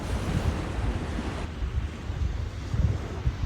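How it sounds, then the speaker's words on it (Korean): Ocean waves wash and roll steadily, a broad rushing surf with wind noise buffeting the microphone throughout. "파도 소리 함께 들을게요."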